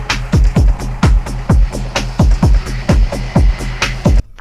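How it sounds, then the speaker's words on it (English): A dry techno loop pounds along with a deep, punchy kick drum thumping steadily about twice a second under gritty, noisy hits and a low droning bass, loud and close. "So this is the dry loop that I have."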